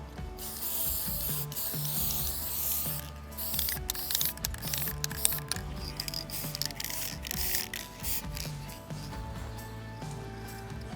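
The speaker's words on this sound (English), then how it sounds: "We're gonna get this last little layer of spray paint on the hardware." Spray paint hissing out of a can onto furniture hardware outdoors, a steady close spray broken by rattling, clicking bursts, with no talking.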